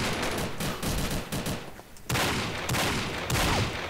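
Rapid gunfire in the online shooter Combat Arms, dense bursts of close automatic shots crackling in quick succession, a brief lull, then another loud volley.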